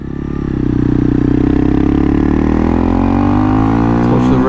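A loud, close Honda CRF 300L dirt bike engine holds a high, steady rev around 9,500 rpm with a buzzing drone that climbs slightly in pitch toward the end.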